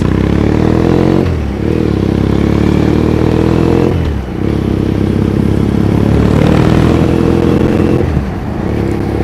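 Motorcycle riding through Shinjuku, Tokyo, its engine droning loud and close, the pitch rising and dropping with shifts and throttle changes over steady traffic rumble.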